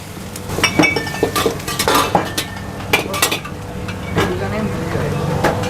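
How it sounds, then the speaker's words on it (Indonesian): Chicken stir-fried in butter in a pan at a busy noodle stall: a utensil scrapes and clanks repeatedly against the metal pan over a low sizzle, with loud irregular clinks and taps throughout. "Mentega udah masuk, ayam ditumis."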